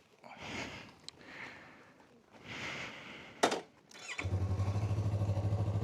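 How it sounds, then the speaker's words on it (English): A Yamaha R3 motorcycle is cranked with a couple of sputtering turns and a sharp click, then the engine catches and settles into a close, steady pulsing idle. "let's see if she starts up"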